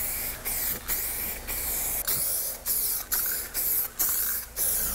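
Spray gun laying a clear coat finish on a car during a DIY repair, repeated hissing bursts of about half a second each, separated by short gaps, close and steady.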